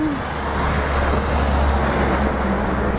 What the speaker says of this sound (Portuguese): Olha o caminhão.